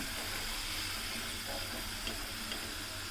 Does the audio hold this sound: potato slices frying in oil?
yes